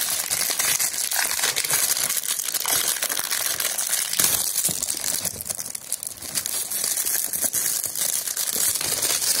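Plastic packaging crinkles and rustles as a newly bought Chinese-made Piranha bottle jack is unpacked, a steady close-up crackling that runs throughout without speech.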